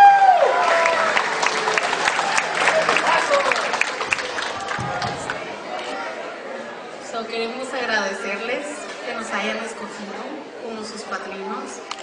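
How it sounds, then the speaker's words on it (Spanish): Applause for the godparents at a family celebration, a crowd clapping steadily throughout with people talking and chattering over it, loudest in the opening seconds. "Fuerte el aplauso para los padrinos,"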